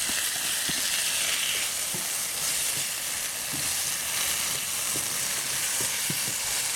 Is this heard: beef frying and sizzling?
yes